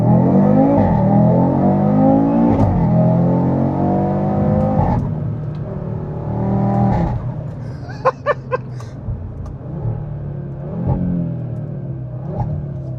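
Audi RS3 (8Y2) five-cylinder engine while driving, loud rising revs through the gears in the first seconds, then settling to a steadier drone with a few sharp clicks, close and in-car.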